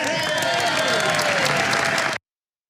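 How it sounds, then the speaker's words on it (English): Crowd at the signing of the Affordable Care Act by Barack Obama gives loud, sustained applause with cheers mixed in, dense clapping that cuts off abruptly. "The applause was so worthy right there."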